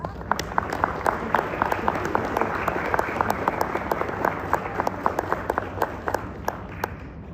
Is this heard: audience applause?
yes